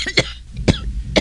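A person coughs sharply three times, with short pauses between, fairly close and without other voices, the cough of someone who is ill.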